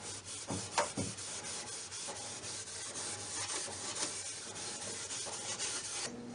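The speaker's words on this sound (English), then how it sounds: "After the varnishing is complete, steel wool is used to buff the surface." Steel wool buffing the varnished wooden surface of a small storage cabinet, a close, steady scratchy rubbing that carries on throughout with small repeated stroke accents.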